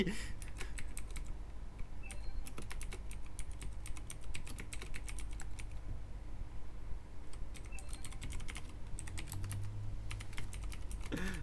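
Rapid, irregular clatter of typing on a computer keyboard during a League of Legends gaming session, bursts of close keystrokes over a steady low background hum with no talk.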